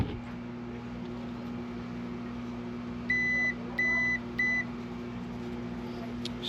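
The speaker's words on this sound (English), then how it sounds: "Alright, so I got my meter set to check continuity." A digital multimeter set to continuity gives three short, steady beeps in quick succession over a constant hum of HVAC equipment, with brief gaps between the tones.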